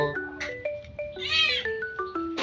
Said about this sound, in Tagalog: Kasi napaka-sweet na pusa na to guys.